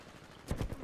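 Smart pistol gunfire in a video game, a short cluster of three or four rapid shots close by after a quiet start.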